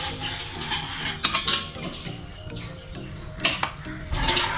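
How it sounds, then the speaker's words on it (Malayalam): Fried vermicelli is stirred into boiling milk in a pot for semiya payasam, giving uneven scraping and a few sharp metallic clinks of a spoon against the pot. "ചെറിയൊരു തിള വന്നതിന് ശേഷം നമുക്ക് ഇതിലേക്ക് വറുത്ത് വെച്ച സേമിയ ആഡ് ചെയ്ത് നന്നായി ഇളക്കി കൊടുക്കാം."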